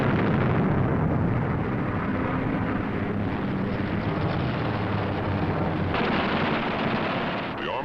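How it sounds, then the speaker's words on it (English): Eight wing-mounted .50 caliber machine guns on a WWII Allied fighter plane fire in a dense, continuous roar, with the aircraft engine droning loudly underneath throughout. "With the touch of the finger on the stick, a camera and 8 machine guns are put into action."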